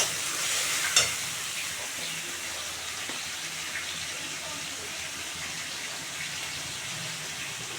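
Tomato and Kashmiri chili powder frying in oil for a pabda fish curry: a steady close sizzle with a sharp clink of a spoon near the start, continuing evenly throughout.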